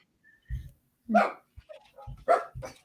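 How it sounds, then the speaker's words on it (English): Several dogs bark in short, loud, close bursts with a few yips between them, riled up by coyotes, with no talk over them. "sorry about the dogs barking in the background."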